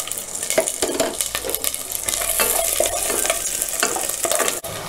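Garlic sizzles and spatters in a hot pan while a utensil stirs and scrapes against the metal, close up and continuous.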